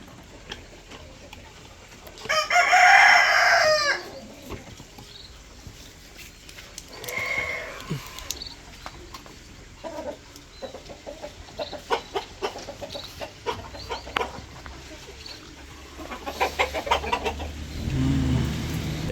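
Chickens cluck and a rooster crows inside a poultry coop, with a loud burst of calls early on and scattered clucks afterward over a busy background.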